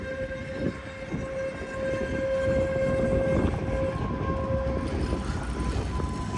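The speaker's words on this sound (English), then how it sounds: "Looks like the tram is about to depart." A city tram in Riga, Latvia, on route 5 pulling away with a steady rumble of wheels on rails and a sustained tonal whine, heard nearby with no talk.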